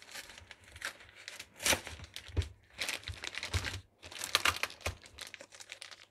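Crinkly plastic packaging of refrigerated store-bought cookie dough being torn open and handled, a run of close, sharp rustles and crackles in irregular bursts with brief pauses.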